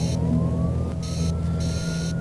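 An emergency ambulance siren in the surveillance game City Eye rises in pitch over a constant engine rumble, with bursts of higher tones, sounding like game audio.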